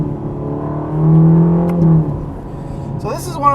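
A Ferrari Roma's engine swells and pulls hard under acceleration on a road, rising in a loud smooth surge before easing off, with a brief whirring rise near the end.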